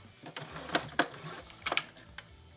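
A sewing machine stitches fabric in short, close bursts of rapid mechanical clatter separated by brief pauses, with no speech.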